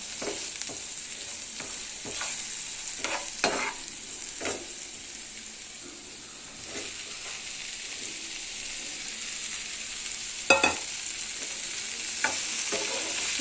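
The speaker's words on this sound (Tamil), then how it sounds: "இப்போ நம்ம வந்து காலிஃப்ளவர் போட்டுக்கலாம்" Cauliflower stir-fried in a pan: a steady low sizzle runs throughout while a spatula scrapes and tosses in intermittent strokes, close by and with no talking.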